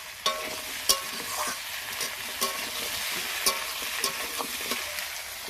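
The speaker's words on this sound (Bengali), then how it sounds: "আলু পেঁয়াজ ভাজছি" Steady sizzling of potatoes and onions frying in a pan, with occasional sharp stirring scrapes and clicks, close up and without talk.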